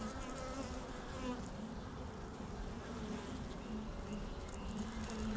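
Honey bees buzz inside a hive full of drone cells, a constant faint droning hum with many overlapping wingbeats and no talk.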